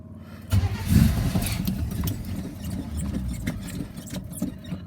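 Chevy pickup truck engine cold starting with the choke on, a near, loud cranking burst that catches into an uneven, rumbling idle with rattling, fluttering chuffs, no talk.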